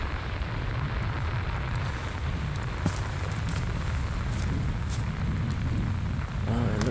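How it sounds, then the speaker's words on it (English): Heavy rain pours steadily at a lakeside campsite beside a Jeep XJ, a dense, constant hiss with occasional louder drops and a faint low rumble, continuing without talk throughout. "I don't really mind the rain."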